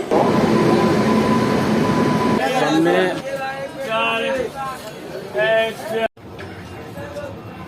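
The 13020 Kathgodam–Howrah Bagh Express, an LHB passenger train, gives a loud, close, steady rumble with a faint tone. It is then joined by someone talking over the continuing rail noise, which cuts off abruptly near the end.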